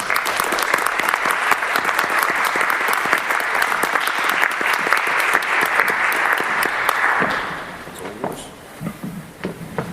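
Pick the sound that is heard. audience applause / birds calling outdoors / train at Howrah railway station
audience applause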